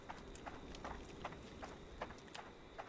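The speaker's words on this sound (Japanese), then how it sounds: "なんか足音聞こえますね。" Footsteps in the horror video game Horrorfield, a steady series of soft, evenly spaced thuds, fairly quiet and mid-distance under a continuous ambient game drone.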